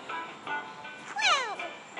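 A human voice imitates a cat, giving several short meows with one longer, sliding meow in the middle, fairly quiet.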